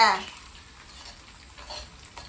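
Food being stirred in a home cooking pan with a spoon, a soft sizzle and scraping that starts louder and fades, with faint voices in the background.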